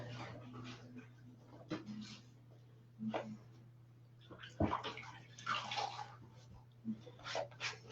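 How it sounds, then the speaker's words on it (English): Running water rinses paste off a shirt-printing screen, a steady low gush with splashes and spatters close by, broken by a few sharper knocks and handling noises. "I'm just washing off the paste."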